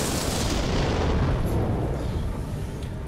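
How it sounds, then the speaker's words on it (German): Ships blow apart in the Star Wars Rebellion game, a dense, booming explosion that hits hard at once and then slowly decays into a fading rumble. "Die 3 sind leider explodiert."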